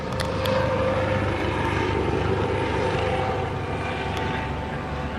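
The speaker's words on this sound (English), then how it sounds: "The chopper's not even flying over the water. It's flying over the buildings." A helicopter flies over buildings near the water, a steady loud droning engine and rotor hum that stays constant throughout, with no voices.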